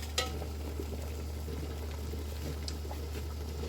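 Strawberry syrup boils in a pot with a soft, steady bubbling and simmering hiss, quiet and close over a low constant hum, with no talking.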